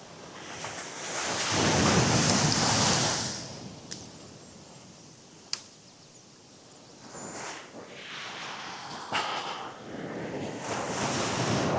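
Sea waves roll in and break on a Suffolk beach in rough conditions with a northerly wind, surging loud then easing, close by, with buffeting wind noise on the microphone.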